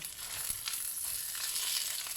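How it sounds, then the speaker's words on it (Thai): Steady crackling sizzle of an egg frying in hot oil in a wok, continuous and close, with a few louder pops and no voices. "พอทอดไปเรื่อย ๆรู้สึกว่าน้ำมันเขาจะแห้งเติมน้ำมันเลยนะคะ"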